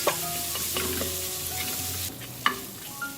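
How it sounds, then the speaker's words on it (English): Onion, red bird's eye chilies and fennel seeds sauté in a pan for a Malaysian Indian vegetable dal, a close, even sizzle with a few spatula scrapes and one sharp knock. "Saute the ingredients until the onion turns translucent."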